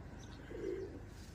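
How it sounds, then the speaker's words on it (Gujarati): A single low, soft dove coo sounds faintly from a short distance against a quiet outdoor background. "સણસણવા રોજ પક્ષી આવી જાય જો ઘૂઘવાટા કરે છે"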